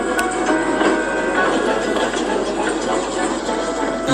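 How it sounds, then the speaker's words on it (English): A goods train sets off, rumbling steadily with a dense mechanical clatter and faint squeals, a continuous loud rolling noise. "Before long, James had been coupled to a goods train and set off after Henry."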